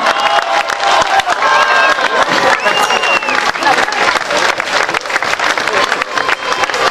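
A casino crowd at the Acropolis Rally 2009 event applauds, cheers and whoops for the BP Ford Abu Dhabi WRC crew, loud and close, with voices shouting in the mix over continuous clapping.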